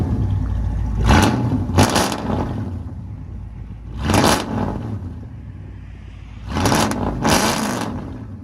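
Revving of a 1998 Chevy K1500 Silverado V8 with true dual exhaust, long tube headers and straight pipes: three loud bursts, each a pair of quick blips, dropping back to a rough rumbling idle between them, recorded close by.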